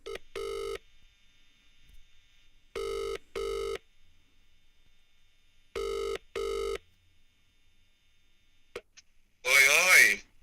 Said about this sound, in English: I just tried calling Flex and it said, busy.